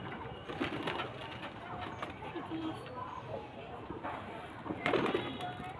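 Pigeons kept for sale coo softly in low, repeated calls amid shuffling and movement, with voices talking over them.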